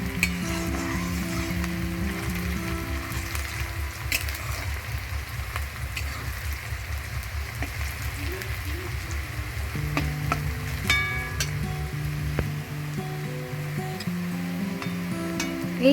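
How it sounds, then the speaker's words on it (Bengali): Onions fry in a pan for a chicken kosha, a steady close sizzle with occasional stirring scrapes and pops throughout. "এই হয়ে গেছে পেঁয়াজ ভাজাটা।"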